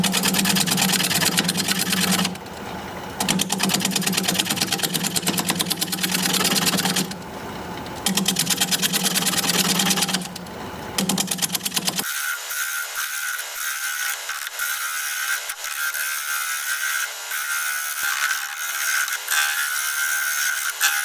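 A wood lathe spinning a root ball bowl at about 550 RPM while a 5/8 inch bowl gouge cuts, a steady motor whine with gritty cutting noise in bursts, then a louder harsh tonal hum.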